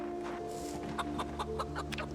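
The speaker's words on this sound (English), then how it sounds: "Let's check on the chickens." Chickens cluck in the zombie survival game Project Zomboid, a string of short repeated clucks over a steady hum and music-like tones, with no talk.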